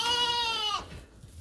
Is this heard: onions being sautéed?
no